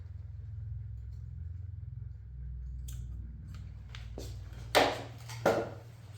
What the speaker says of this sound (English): Next, I size and cut the sweatband.